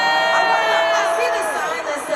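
A loud concert crowd at a show in Toronto cheers and shouts continuously, a dense, close roar of many voices with whoops rising above it throughout.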